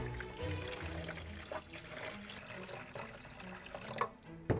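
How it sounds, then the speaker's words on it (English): Water runs into a toy doll bathtub, a steady splashing and trickling fill that is fairly faint and close, ending with a couple of small knocks. "Let's fill up the bathtub with water."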